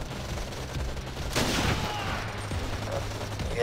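Gunfire in Sniper City, a sniper shooting video game: one sharp, loud shot bursts out partway through over a steady low game-engine hum, with no talk.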